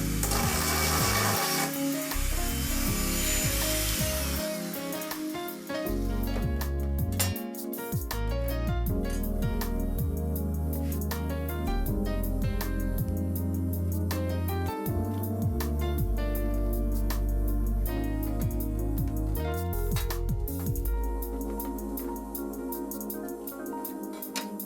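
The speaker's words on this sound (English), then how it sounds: "I used a Dremel tool, but this time with a small grinding stone sanding drill bit." A Dremel rotary tool fitted with a small grinding stone bit works on the plastic grille housing of a 1969 Plymouth Barracuda model, a loud, close, high-pitched whine that shifts in pitch as pressure changes, running steadily throughout with brief dips.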